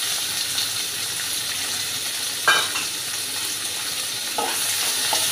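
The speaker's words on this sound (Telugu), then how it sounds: "ఇవి బాగా ఎర్రగా వేయించుకోవాలి" Two large chopped onions frying in a pan for a brinjal and fenugreek curry, giving a steady close hiss with a few brief stirring scrapes and no talk.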